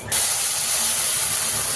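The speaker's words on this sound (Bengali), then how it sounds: "তো এবারে দুধ দেবো" Milk poured into a hot pan of ghee-fried vermicelli with cracked cardamom, bursting into a sudden loud steamy hiss that holds steady, close and unbroken, with no talking.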